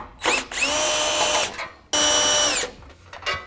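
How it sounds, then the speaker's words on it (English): A power driver with a T40 Torx bit spins out screws from the end cap of a 2021–2022 Ford Bronco modular bumper, giving two loud, close whirring bursts of about a second each with a short gap between them and no talk. "Start by grabbing a T40 Torx bit, and we're going to remove these two screws on the top of the end cap for your modular bumper."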